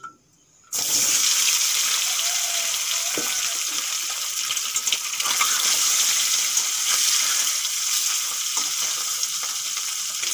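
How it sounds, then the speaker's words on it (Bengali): Turmeric-and-salt-coated eggs frying in hot oil in a kadai, a steady loud sizzle that starts abruptly and continues throughout with small crackles and pops, no talking. "এখন হলুদ লবণ মাখানো ডিমগুলো ভেজে নেব।"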